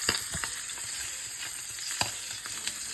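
A wild brown trout pan frying outdoors, a steady close sizzle and crackle with a few sharp spits and pops, no voices.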